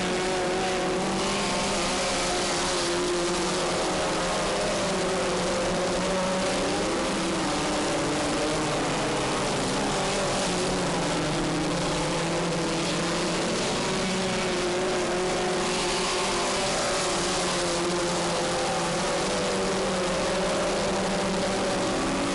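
Race cars roar around a short track in the New England racing scene, a loud, continuous blend of engines rising and falling as the pack circles, close and unbroken, with no talk.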